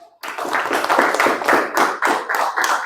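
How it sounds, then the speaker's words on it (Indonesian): A small class claps hands in a classroom, a brief burst of bunched, slightly rhythmic claps that starts abruptly and stays fairly close and lively throughout. "Hebat ya, tepuk tangan."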